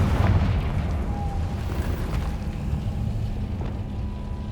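Confringo blasting curse in Hogwarts Legacy erupting in a deep, heavy boom that rolls into a sustained low rumble, loud and close, fading slowly over a few seconds.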